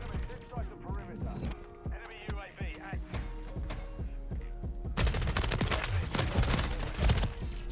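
Rapid M4 rifle fire in Call of Duty: Modern Warfare III comes as bursts of sharp shots under a voice talking, then denser, louder firing toward the end.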